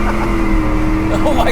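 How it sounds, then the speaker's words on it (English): Inside a 770 whp Ford F-150 truck, the engine drones loudly and steadily during a short burst of wheel spin, with a voice speaking over it. "That's just wheel spin."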